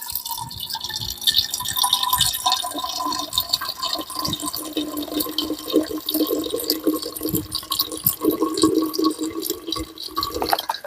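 Water trickles and drips steadily through a camping water filter at a lakeside kayak campsite in Tennessee, a close, continuous splashing flow with scattered drip sounds.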